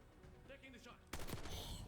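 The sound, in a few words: gunshot from the video game Call of Duty Black Ops 6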